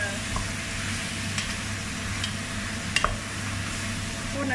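Spicy chicken stir-fried with turmeric and salt in a pan, a steady sizzle with occasional utensil clinks and scrapes close by.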